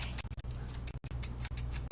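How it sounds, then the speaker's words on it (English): Thinning shears snipping a Westie's coat while blending the skirt over the chest, a quick series of crisp metallic cuts in uneven bursts, close and fairly quiet, with no speech. "Get our thinning shears just to blend the skirt up in the front"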